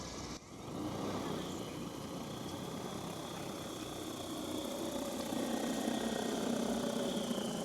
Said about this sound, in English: Aircraft preparing to take off. Stand back at a safe distance. Take off.